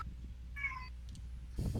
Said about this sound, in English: my cat's going nuts. Sorry if you guys can hear that.